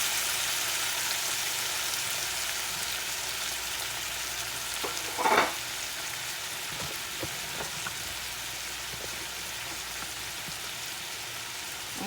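Beef and its juices frying in hot oil, a steady hiss of sizzling throughout with a short louder burst of crackling midway, close and unaccompanied by talk.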